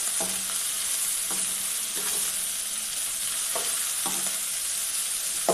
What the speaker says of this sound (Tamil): கருவாடு போட்டு நல்லா அந்த கருவேப்பு எண்ணெய் எல்லாத்துக்கும் கூட சேர்ந்து நல்லா மிக்ஸ் ஆகுற மாதிரி நல்லா வதக்கிட்டுருக்கோம்